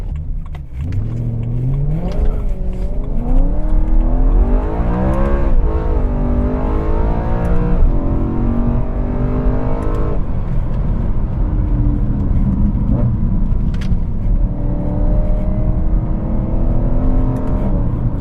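A BMW M3 accelerates hard from inside the cabin, its engine note rising and falling through gear changes over a constant heavy road and tyre rumble, loud and sustained throughout.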